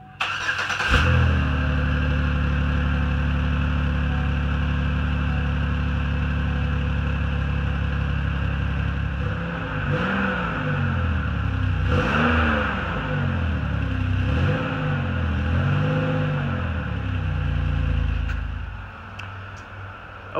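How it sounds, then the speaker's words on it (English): A 2006–2011 Chevy Impala engine cold start with a new cat-back exhaust: it cranks and catches, then settles into a steady low idle with a few brief revs before it quiets down near the end. "It's time to start her up and uh, make sure there's no exhaust leaks"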